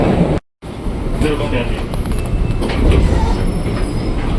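A KRL commuter electric train runs on the elevated track at Manggarai, its steady rumbling wheel noise filling the clip with faint squeals and clatter, broken once by a brief cut to silence, while a voice talks over it.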